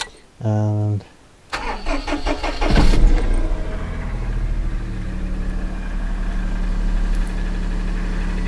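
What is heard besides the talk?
Daihatsu Charade cold start, engine idling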